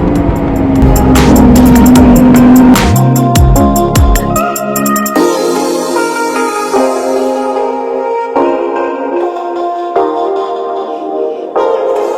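A Lamborghini sports car revs and drives, with loud, close engine tones rising and shifting through gears, then easing into a lower, fading drone with music-like tonal layers.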